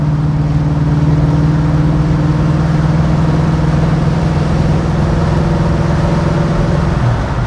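A 1969 Pontiac GTO with a Tremec manual transmission pulls through the gears, its engine a loud, steady low drone that holds one pitch before dropping off near the end as a shift comes, close and without talk.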